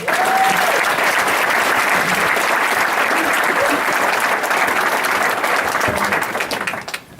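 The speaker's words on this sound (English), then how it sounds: "Can we give them one more round of applause?" An audience at a coaches' recognition event gives a loud, sustained round of applause that stays dense and steady, then fades out near the end.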